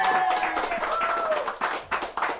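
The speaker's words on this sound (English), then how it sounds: "A round of applause for Miss Aisha Khan." A studio audience greets an arriving guest with a burst of clapping and crowd noise while other voices carry on over it, and the applause thins into separate claps near the end.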